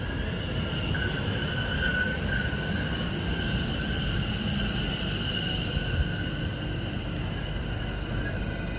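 A train pulling into Southend Central station, a steady low rolling rumble with a faint high metallic whine throughout, heard at a moderate distance without voices.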